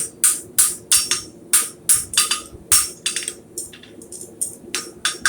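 A hammer strikes metal bar stock on an anvil in a quick series of sharp, ringing blows, about twenty strikes in an uneven rhythm, loud and close with no voices.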